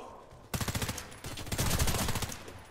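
Rapid automatic gunfire from the online shooter Warface comes in two loud, fast bursts of evenly spaced shots after a brief quiet start.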